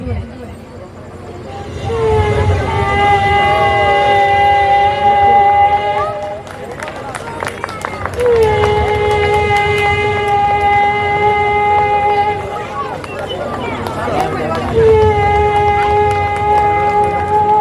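A mimicry performer's voice imitates a blown conch shell on stage, three long sustained wailing blasts, each rising then holding a steady tone, loud and close with brief gaps between them.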